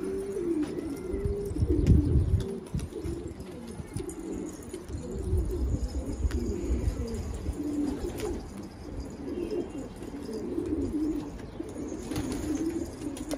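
Pigeons coo in low, throaty, repeated bursts, close by and overlapping, with faint rustling in the background.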